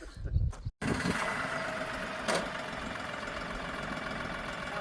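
A tractor engine idles with a steady low rumble and knocking throb after a brief thump, running continuously nearby before brush hogging.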